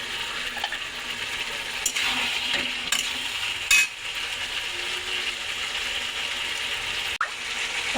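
Chili and cumin powder are stirred in a frying pan, giving a continuous dry sizzle with scraping, a few sharp clicks and one brief dropout midway.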